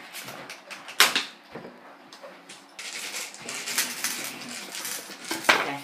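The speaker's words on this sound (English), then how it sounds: "And now we're going to cut the strawberries and put them on." Cutlery clinking and scraping on a plate while strawberries are cut for a cracker snack, with irregular sharp clicks and taps, close and fairly quiet, with no talking.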